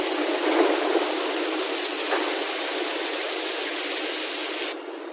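Hail comes down on crops as a dense, steady hiss of pelting ice, loud and unbroken for several seconds before easing slightly at the end.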